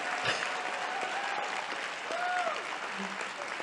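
A political conference audience applauds in a sustained wash of clapping, with a speaker's voice weaving over the top.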